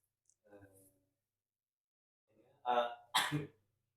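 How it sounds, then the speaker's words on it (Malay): A couple of short, harsh coughs close to the mic, following a brief quieter vocal sound, with silence in between. "Kena batuk pula."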